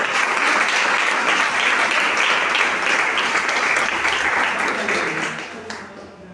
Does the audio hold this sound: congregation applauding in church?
yes